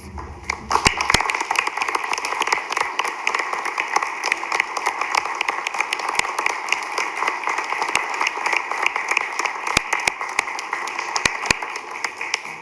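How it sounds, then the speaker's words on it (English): A room full of people applauding at a city council meeting, sustained clapping at a steady level with a few sharper, louder claps standing out, no voices. "ndace and Heather and Dave and Mike and Ron, if you'd stand so that we can just recognize you public with applause"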